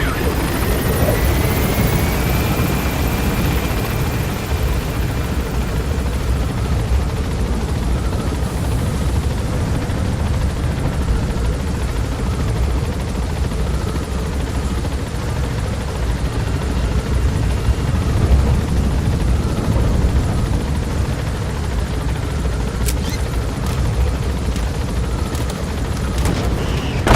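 A helicopter gaining altitude in the video game Metal Gear Solid 5: The Phantom Pain, a loud, constant rotor and engine roar that fills the whole stretch without letup, with occasional faint higher tones over it.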